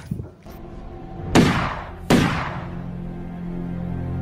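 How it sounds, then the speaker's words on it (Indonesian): Two sharp gunshots, a couple of seconds apart, each with a booming decay over a low steady rumble. "terdengar suara tembakan"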